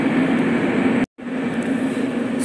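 Metro train pulling into an underground station and halting at the stop marker, a loud steady rumble and whine broken by one abrupt brief gap, then resuming.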